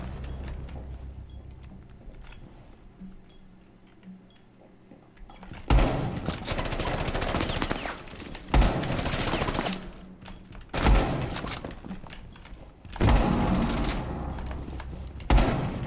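A weak ITA 12S shotgun fires in the Rainbow Six Siege video game, a few loud, sharp blasts spaced a couple of seconds apart, each followed by rattling gunfire and clatter, after a quieter stretch of faint game ambience.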